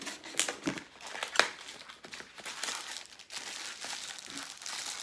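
A package is torn and unwrapped by hand, giving close, crisp crinkling and crumpling of plastic or paper wrapping in irregular bursts with sharp rustles.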